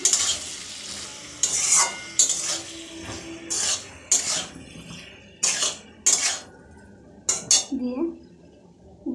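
A spiced mixture is stirred in a pan on the stove, with bursts of metal spoon scraping and clattering against the pan every second or so over a soft, continuous sizzle.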